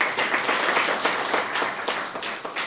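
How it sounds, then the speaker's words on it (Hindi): Audience at the Bihar Development Summit at Subharti University claps for a speaker, a crisp, close burst of hand clapping with uneven rhythm, rising and falling. "एक बार ज़ोरदार तालियां सर के लिए।"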